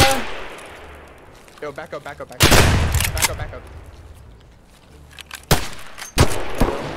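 Gunfire in Escape From Tarkov, with a few bursts of rapid shots cracking loudly over a player's voice, followed by a couple of isolated sharp reports near the end.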